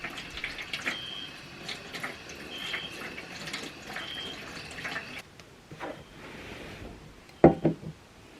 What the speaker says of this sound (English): time for me to brush my teeth and wash my face with spring water